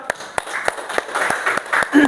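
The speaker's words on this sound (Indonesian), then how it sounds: "Tepuk tangan untuk kita semua." Children in a classroom clap in a rough rhythmic pattern, sharp claps spaced about every third of a second, with a teacher's voice over them.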